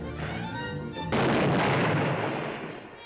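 Firecrackers in the 1953 Looney Tunes cartoon Ant Pasted: a steady cartoon score is cut by a sudden loud explosion that roars on as a broad, sustained crackling blast before gradually fading.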